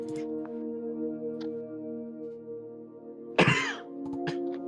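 One abrupt cough rings out over a steady electronic hum, with a few faint clicks scattered before and after it.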